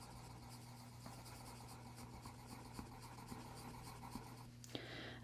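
A Prismacolor colored pencil lays down soft layered shading on paper, giving a faint, continuous close-up scratchy rubbing with small strokes throughout and one brief rustle near the end.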